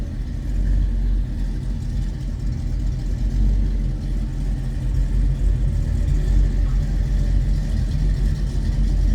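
A 1955 Chevrolet 210 two-door post rumbles at a steady idle after a cold start, with a low, continuous, fairly loud engine tone throughout and no talking.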